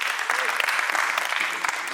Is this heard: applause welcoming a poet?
yes